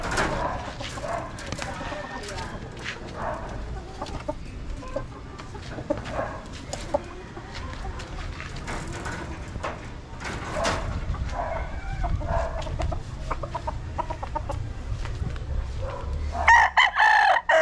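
Chickens and roosters in a spacious breeding coop, with roosters crowing and hens clucking in the background throughout while someone talks over them; a louder close crow breaks out near the end.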